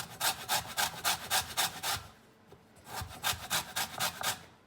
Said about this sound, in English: I'm actually going to grate it finely